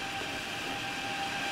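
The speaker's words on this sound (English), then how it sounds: "Love it when the trains go by." Trains rolling past in the Transport Fever rail-building game, a steady broadband rumble and hiss that holds evenly throughout without breaks or talk.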